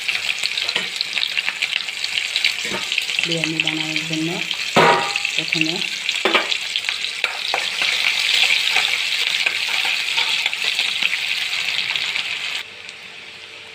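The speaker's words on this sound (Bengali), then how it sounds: "আমার লাল লাল করে পেঁয়াজগুলো ভাজা হয়ে গেছে" Steady sizzling of chopped onions frying in hot oil in a kadai runs throughout, with occasional stirring clinks and a brief voice speaking partway through.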